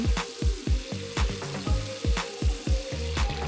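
Garlic cloves with cinnamon bark being stir-fried in a wok, a loud sizzle broken by regular rhythmic scrapes and tosses of the spatula, close and without talk.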